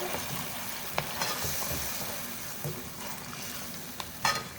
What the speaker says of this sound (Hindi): लो फ्लेम पर हम मिक्स करेंगे।